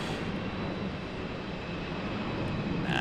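An airliner on a go-around at Raleigh-Durham International passes close overhead with a loud, broad, steady engine roar that stays constant through the moment.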